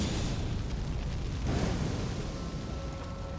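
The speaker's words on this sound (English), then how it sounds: "It goes until a wall or until it hits an enemy and then does a big explosion. With some fire lingering behind." A big spell explosion in the video game Elden Ring, a dense booming blast that fills the whole stretch, swelling midway and then easing into a steady roar of lingering fire.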